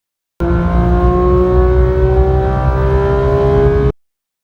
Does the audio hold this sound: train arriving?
no